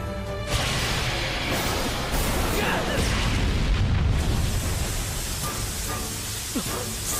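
Anime explosion effect: a loud, sustained roaring blast of broad rumbling noise lasting several seconds with crackling debris, building to a peak midway and tapering off, with a voice faintly present underneath.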